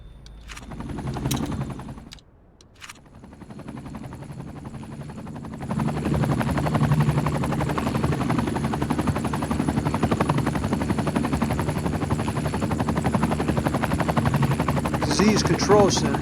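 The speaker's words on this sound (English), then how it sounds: "It's a medical helicopter." Medical helicopter in the Cities Skylines 2 city-building game, its rotor thrumming steadily and growing louder as it comes close, alone with no talk.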